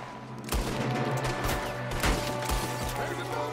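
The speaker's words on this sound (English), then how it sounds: "There's another one shooting from the window!" Gunfire in Red Dead Redemption 2, a rapid exchange of loud gunshots cracking in quick succession over a shootout, with a voice shouting in the scene.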